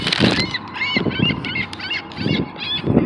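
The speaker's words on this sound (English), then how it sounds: "Seagulls." Seagulls being fed call loudly and repeatedly nearby, a clamor of harsh overlapping squawks and honks arriving in bursts.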